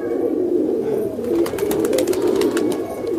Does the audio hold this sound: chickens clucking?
no